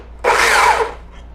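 A power drill whirs loudly for about half a second, then winds down and stops, close to the listener with no talking.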